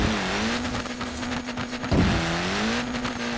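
A V8-engined car in Forza Horizon 4 holds a steady, loud, humming engine drone, broken by a short rough burst partway through before the drone settles again.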